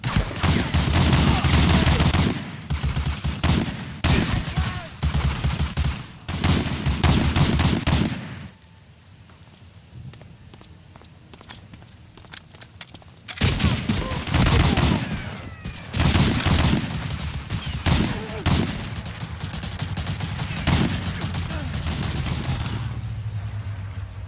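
Bursts of rapid gunfire and machine-gun fusillades from the World War II shooter Medal of Honor: Allied Assault, loud and close, broken by a quieter lull before the shooting resumes.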